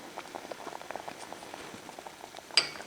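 Stroganoff sauce boils softly in a pan, a faint, close patter of small bubbles popping irregularly, with one sharper clink near the end.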